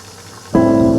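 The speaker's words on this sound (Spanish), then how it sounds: "voy a prender la bomba de agua" A boat's water pump switches on abruptly to flush pink antifreeze through the system, going from near silence to a loud, steady motor hum close by.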